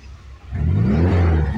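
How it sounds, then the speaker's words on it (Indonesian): A Toyota Corolla DX engine starts running after a brief quiet moment and settles into a smooth, close, steady drone with a faint rising tone. No one speaks over it. "Untuk suara mesinnya halus ya."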